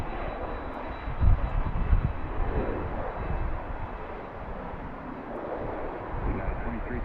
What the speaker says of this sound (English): And right behind that is going to be the Southwest flight from Columbus, which is also a MAX 8.